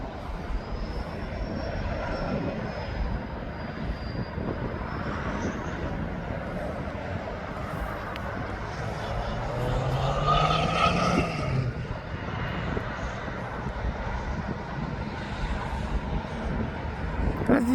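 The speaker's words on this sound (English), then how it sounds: "Flight now it's just left East Midlands is making his way to the south of the airport" An aircraft climbing out of East Midlands Airport and turning south makes a steady, distant engine roar that holds for the whole stretch and swells slightly near the middle, with faint talk underneath.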